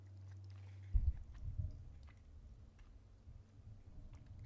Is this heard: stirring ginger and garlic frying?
no